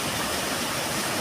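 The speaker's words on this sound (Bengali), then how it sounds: "ঝর্ণাটা পেছনে শুধু দেখুন বন্ধুরা।" A waterfall behind the Rajrappa temple gives off a steady, broad rushing roar, an even wash of falling water with no break and no voices.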